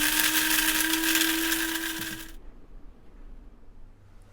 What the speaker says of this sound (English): I use my little spice grinder usually for little quantities like that